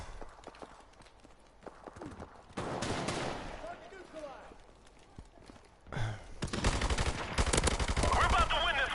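Rapid automatic gunfire in Call of Duty Modern Warfare Remastered multiplayer, with clustered bursts of quick, clean shots that grow loud and dense toward the end, interspersed with footsteps and game noise.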